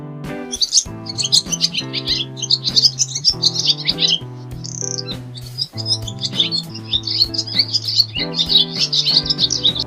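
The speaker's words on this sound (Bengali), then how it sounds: "ঘুঘু পাখি ডাকছে গাছে" A dove calls from a tree, giving bright, busy chirps and tweets layered over steady musical tones.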